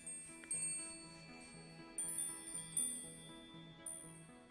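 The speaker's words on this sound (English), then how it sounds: "That is lovely, just listening to the chimes." Soft, tinkling wind chimes in the Starbound video game, a quiet cluster of high, bell-like strikes scattered over a gentle looping melodic background, with no talking.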